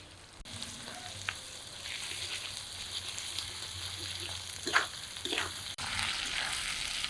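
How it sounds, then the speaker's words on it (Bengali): Ginger paste frying in hot oil in a pan, a steady close sizzle with occasional stirring scrapes and bumps throughout. "আদা বাটা তেলের মধ্যে অল্প কষিয়ে নিলাম"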